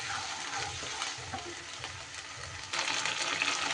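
Ginger and green chili paste frying in oil in a pan, a soft steady sizzle with stirring scrapes, close and moderately quiet, growing a little louder near the end.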